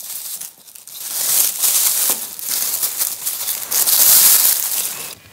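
Paper wrapping crinkling and rustling close up as a motorcycle helmet visor is unpacked, in irregular loud bursts throughout.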